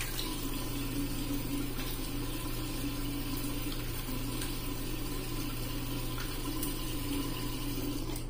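Tap water runs steadily into a sink while rinsing off during a shave in Taipei, a constant close hiss and splash with no talking.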